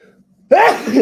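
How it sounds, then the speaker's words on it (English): A single loud, close sneeze bursts out after a short quiet stretch, sharp and breathy with a trailing exhale. "I'm gonna sneeze"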